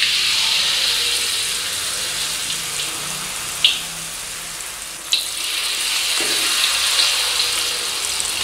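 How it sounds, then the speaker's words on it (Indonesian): Shrimp peyek batter fries in oil at the edge of a wok over low to medium heat, giving a steady, loud sizzle with a couple of brief sharp crackles and no speech. "Lalu kita goreng di tepi wajannya."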